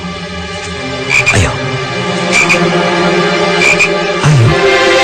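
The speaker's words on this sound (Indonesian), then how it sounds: "Ayo kodok kesayangan, lakukan tugasmu." A frog croaking loudly and close by in a series of deep, rasping croaks a second or so apart, with a short spoken word partway through.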